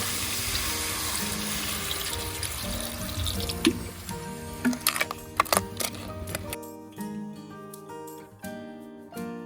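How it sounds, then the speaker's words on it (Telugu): Water poured from a tap-like stream into frying blue crab curry gravy in a kitchen, a steady close splashing run that thins to brief drips and dribbles toward the end. "ఇప్పుడు కొద్దిగా వాటర్ వేసుకోవాలి మనం."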